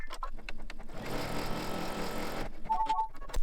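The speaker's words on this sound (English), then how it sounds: "And it's going to stitch a tack down line right along here." An embroidery machine stitching a tack-down line across fabric for an in-the-hoop mug rug: a few mechanical ticks, then a dense, steady burst of rapid stitching lasting over a second, then ticks again and a short beeping tone, all close and fairly loud.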